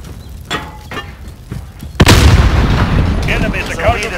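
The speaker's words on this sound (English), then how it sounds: "Throw a grenade!" A grenade detonates in Call of Duty Modern Warfare team deathmatch, a sudden loud blast that follows a few quieter thumps and trails into rumbling debris and game voices.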